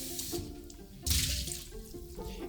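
Water sloshes and swirls inside a small Greek coffee pot (briki) during rinsing, a steady close wet churning with a louder surge midway.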